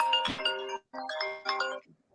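A phone ringtone chimes in short melodic bursts, two or three phrases with brief gaps, fairly close and clear.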